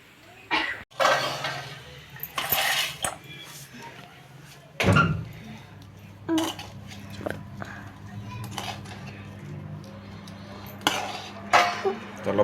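Sabudana khichdi is served onto plates with utensils: scattered clinks, scrapes and knocks of spoons against plates and pans, some sharp and close, mixed with ongoing talk and a low steady hum.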